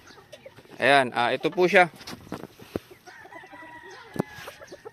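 Clucking from a pure possum Sweater broodcock, a gamefowl rooster, close by, with short throaty calls amid someone talking nearby.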